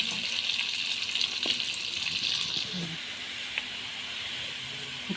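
Chopped onion and chicken pieces fry in a pan with a steady, even sizzle and hiss, broken by a few soft clicks and stirring scrapes, fairly close and constant throughout.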